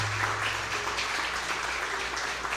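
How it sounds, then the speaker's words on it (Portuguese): Congregation applause during a church first-fruits service, steady clapping from a crowd filling the room for a couple of seconds, with a low hum underneath and no speech. "Aplauda ele agora bem forte, em nome de Jesus"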